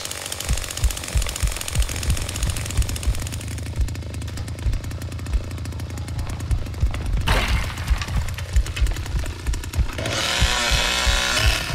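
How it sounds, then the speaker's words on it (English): In the Texas Chainsaw Massacre video game, Leatherface's chainsaw restarts with a loud, rough mechanical roar and rapid rattling pulses that surge and shift over several seconds, ending in a harsher, brighter burst, with no talking. "I've got to restart chainsaw."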